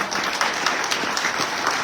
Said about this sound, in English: One more round of applause for our lawmakers